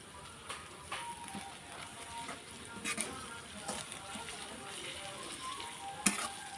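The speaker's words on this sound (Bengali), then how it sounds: "আমি এখানে 2-3 মিনিট এটা ভালোভাবে ভেজে নেব।" Ginger garlic paste fries in a pan of oil alongside whole cardamom, cinnamon and green chillies for beef khichuri, a steady soft sizzle with occasional sharper crackles and spoon scrapes.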